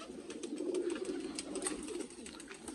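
A flock of Golden and Rampuri breeder pigeons coos continuously in low, warbling tones, with light scratchy movement noises mixed in.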